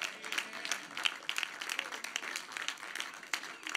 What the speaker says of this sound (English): everyone needs to give a round of applause to Christ for that